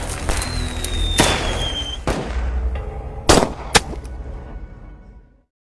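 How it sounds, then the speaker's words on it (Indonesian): Gunshots in a film scene set amid fireworks: several sharp, loud cracks and bangs spaced over a few seconds, with a whistling firework rising early on, before fading to silence. "Kumar menembak Vicky"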